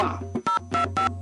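A telephone is dialed to call in during a radio broadcast, a short run of clipped electronic keypad tones, four or five quick beeps close and clear.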